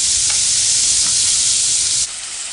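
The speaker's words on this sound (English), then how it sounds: "The beef is frying" Beef sizzles loudly in hot oil in a pan on a stovetop, a dense continuous frying hiss close to the microphone that eases slightly near the end.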